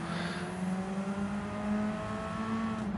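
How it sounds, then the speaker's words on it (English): A Radical race car's engine in a racing video game holds a steady, high-revving drone with a strong buzzing tone. It stays loud and even throughout with no speech. "do the double shift there from second to fourth, revving it all the way out."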